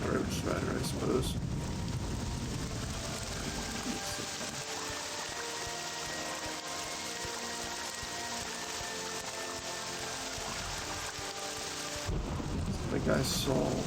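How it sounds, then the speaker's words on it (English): A thunderstorm in the video game Morrowind brings a continuous hiss of heavy rain with deep rolling thunder, loud at the start and swelling again near the end. "I am absolutely tired of this thunderstorm."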